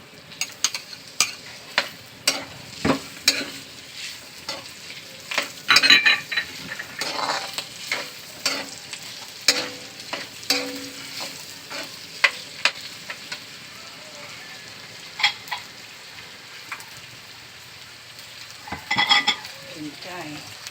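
Onion frying in a pan for batchoy gives a steady low sizzle throughout, broken by frequent sharp clicks and scrapes from a utensil stirring against the pan.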